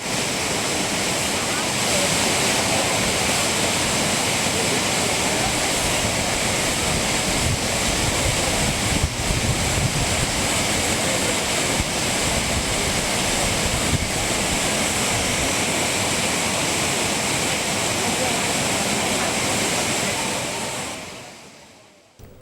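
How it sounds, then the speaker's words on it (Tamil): Water roars down the main waterfall at Courtallam after rain, a loud, dense, continuous rushing wash that holds steady for about twenty seconds before fading out at the end. "தற்போது அருவியில் தண்ணீர் ஆர்ப்பரித்து கொட்டும் காட்சிகளை பார்க்கலாம்"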